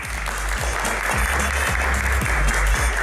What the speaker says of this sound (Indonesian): tepuk tangannya dong, lebih keras lagi